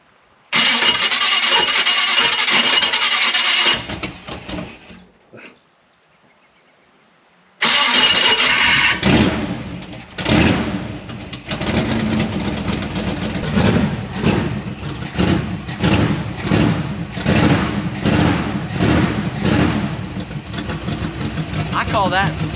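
A Chevrolet Biscayne engine cranks loudly and fires, cuts out briefly into near silence, then starts again and settles into a rough, pulsing idle; voices speak faintly nearby.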